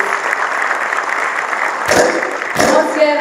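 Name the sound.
audience applause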